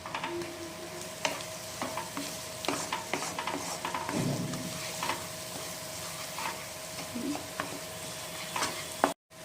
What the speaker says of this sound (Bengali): আর এখন এই মশলাগুলোকে ভালো করে 5-6 মিনিট ধরে আমরা কষিয়ে নেব।